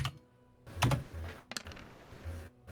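Computer keyboard typed on during an online tabletop roleplaying session, with a few quick bursts of clacking keys at close range and brief pauses between strokes.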